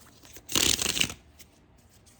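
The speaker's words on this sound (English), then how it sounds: "I need to give it one more good shuffle because these are thick." A thick oracle card deck is riffled in one close, crisp burst of about half a second, then quiet handling sounds.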